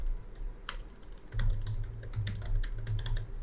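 Code being typed on a computer keyboard, bursts of quick, uneven clicking keystrokes close up with short pauses between runs, no voices.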